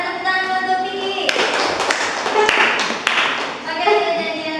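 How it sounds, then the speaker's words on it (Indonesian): A short burst of applause from a class of students rises for about two seconds in a classroom, with voices talking before and after it. "tepuk tangan untuk Vicky"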